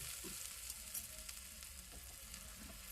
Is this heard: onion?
yes